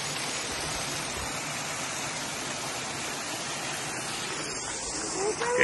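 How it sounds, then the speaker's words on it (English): A waterfall rushes down a hillside in a steady, close broadband roar that holds constant throughout, swelling slightly louder at the very end. "Here's the waterfall."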